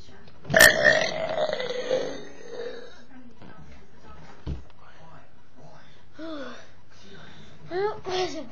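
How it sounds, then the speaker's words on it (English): A big, deliberate burp bursts out loud and close early on, with a long rumbling tail, followed by quieter throat noises, a faint gulp and a few breathy, moaning voice sounds. "Now I'm going to try hang on for the big burp."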